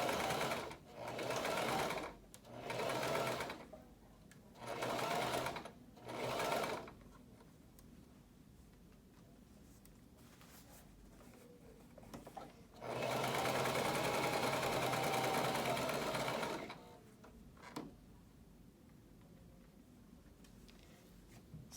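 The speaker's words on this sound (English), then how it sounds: "So we'll get started sewing that." Sewing machine stitching a fabric PPE gown sleeve: four short machine bursts in a row, then a longer steady run of stitching, close and fairly quiet.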